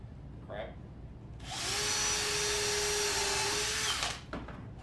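Drill driver driving a screw into a wooden shelf, one loud whirring burst of about two and a half seconds close by, with quiet background sounds before and after.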